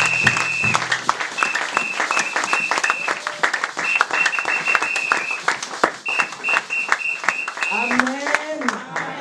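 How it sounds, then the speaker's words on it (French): Church congregation applauding a singer, sustained close clapping with a lively uneven rhythm running under a voice speaking and calling over it. "Est-ce que tu peux acclamer pour toutes les filles? Pour le chantre."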